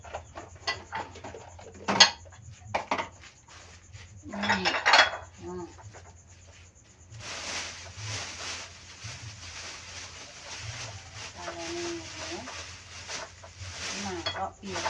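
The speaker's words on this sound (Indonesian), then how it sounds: "Mangkok piring" Bowls, plates and cutlery clink and clatter close by while a kitchen is being cleaned and tidied, in scattered knocks and rattles, with someone talking during the handling.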